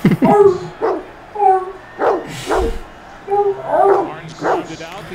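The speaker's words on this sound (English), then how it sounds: "Someone just sat there for an hour just listening to their dog." Dog barking repeatedly in a steady rhythm of sharp barks and yips, close and fairly loud, with a person's voice mixed in among the barks.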